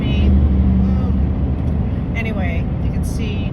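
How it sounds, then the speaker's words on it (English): A pickup truck passing close by on a shoulderless highway in Baja California, Mexico, a loud rushing whoosh up front that fades into steady road and engine noise, with a faint voice in the background. "There's a truck about to pass me, and pickup truck."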